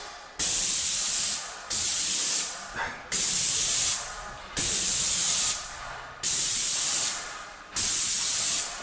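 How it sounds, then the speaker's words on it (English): A spray gun coats a staircase stringer in repeated bursts, six loud hissing sprays of about a second each separated by short pauses, close and steady in rhythm with no talk. "then I'll spray the stringer"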